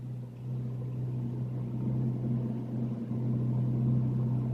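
A ute's engine revs right alongside a Ferrari 458 Speciale by a harbour lined with big yachts, a steady low drone that swells slightly near the end, close and continuous with no talking.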